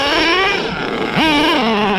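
Nitro engine of a Redcat Earthquake 3.5 RC truck revving hard, its whine sagging and bogging down before climbing back up, loud and close with no talking.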